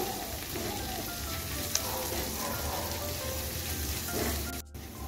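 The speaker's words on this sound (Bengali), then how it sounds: "একটা কাঁচা লঙ্কা আমি কুচি করে কেটে নিয়েছি, দিয়ে দিচ্ছি। এখন আমি সব কিছু আরও 2 মিনিটের মতো কষিয়ে নিচ্ছি।" Spices and chopped green chilli sauté in a pan for banana flower chop, making a continuous, fairly loud sizzling hiss with faint stirring scrapes and a brief dip near the end.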